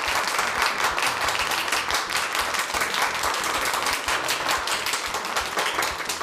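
Studio audience applauding participants on a Brazilian family cooking competition TV show, steady dense clapping that fills the whole stretch at an even level, with no voices standing out.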